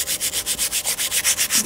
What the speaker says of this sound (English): I just roll up a piece of sanding paper, just a small one